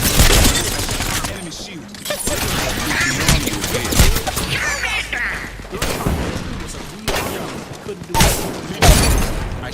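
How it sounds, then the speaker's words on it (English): Video game gunfire, dense volleys of loud shots and booms in a continuous battle barrage, close and heavy, with a voice speaking briefly over the shooting. "I shot at it"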